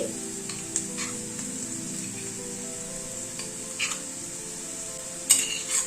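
A crushed mix of peanuts, sesame, garlic and coriander hits lightly fried onions in a hot pan, giving a steady sizzle with occasional stirring scrapes and utensil clinks, loudest near the end.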